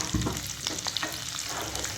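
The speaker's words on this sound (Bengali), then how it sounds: "পেঁয়াজটা আর আদা রসুন কুচিটা দিয়ে দিচ্ছি, একটু লাল লাল করে ভাজা হবে।" Chopped onion with ginger and garlic dropped into a hot pan, hitting the oil with a sudden burst and then settling into a steady close sizzle with light stirring, no voices.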